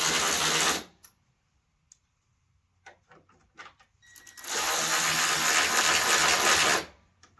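A power driver whirs in two sustained bursts while running in 10mm screws on a Ford F-150 headlight assembly, separated by a short gap of faint clicks and handling noise.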